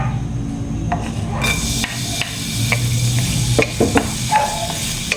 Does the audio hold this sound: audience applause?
no